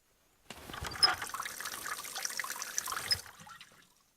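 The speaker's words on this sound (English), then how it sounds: "Maybe the tap is meant to depressurize the water tank if it rains too much." Water runs from a tap on a rooftop water tank in a video game, a steady hissing stream starting abruptly, holding for about three seconds, then tapering off.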